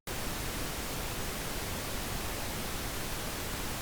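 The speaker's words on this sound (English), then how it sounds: "I'll point out some certain qualities or characteristics that the different boosts bring to the pink noise" Flat, unequalized pink noise test signal: a steady, dense broadband hiss that starts abruptly and holds at constant level throughout.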